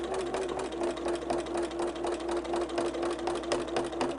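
A sewing machine fitted with a walking foot quilts a heavy holiday quilt, humming in a continuous, loud, even drone with a fast rhythmic pulse of stitches throughout.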